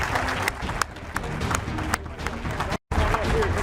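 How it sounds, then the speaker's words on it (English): A crowd at a retirement ceremony applauds with dense, continuous clapping and some sharper claps, a voice carrying over it throughout. "So ladies and gentlemen, with your applause, will you congratulate one more time the 58 and the 88, Thomas Davis and Greg Olsen."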